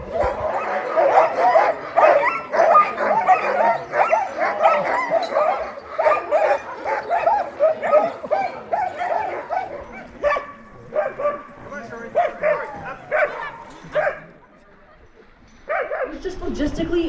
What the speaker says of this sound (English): Sled Dog kennels, straight ahead.